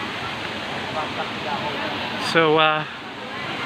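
Small waterfall at a Phnom Kulen site in Cambodia, heard as a steady, even broadband rush of falling water throughout, with a brief spoken word partway through.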